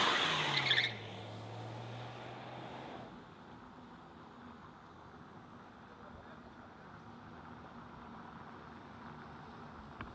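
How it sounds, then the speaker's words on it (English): A car peels out with a short, loud burst of tire squeal and revving engine that winds down within a few seconds, leaving a faint low engine rumble trailing off into the distance. "go ahead, peel out"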